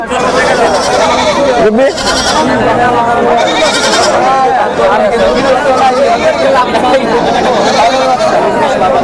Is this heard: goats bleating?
yes